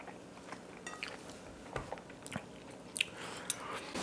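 A chef tastes cooked pork potsticker filling from a small spoon, giving a few quiet bites and soft chewing sounds close by, with faint clicks and no talking.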